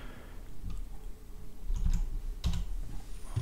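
Keys clatter on a computer keyboard while text is entered in GIMP, quiet clicks coming in short uneven bursts with brief pauses, fairly close and alone.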